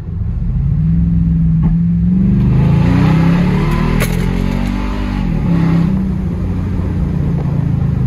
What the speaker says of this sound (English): this is what the exhaust sounds like